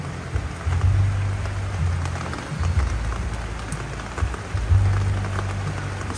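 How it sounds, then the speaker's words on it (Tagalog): Heavy rain pours steadily onto potted succulent plants outdoors, a dense continuous hiss with low rumbling swells, no voices. "Lakas ng ulan."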